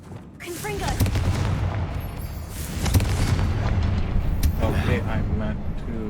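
Explosion spells from the video game Hogwarts Legacy go off as repeated booming blasts over a continuous rumble, with fainter voices from the game mixed in.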